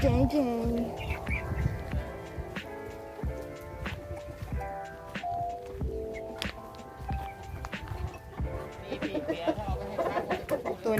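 Chickens cluck intermittently nearby in a small coop on a farm, amid patter and background noise, with a voice talking at times.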